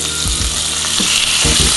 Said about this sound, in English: We're going to saute these for 2 to 3 minutes.